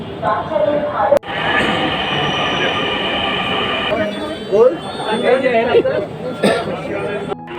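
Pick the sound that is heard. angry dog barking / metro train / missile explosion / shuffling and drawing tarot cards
metro train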